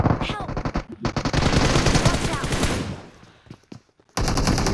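Rapid automatic gunfire fills a multiplayer video game, with bursts of machine-gun shots in quick rhythm, a pause of scattered single shots, then a loud renewed volley, while someone talks excitedly in between.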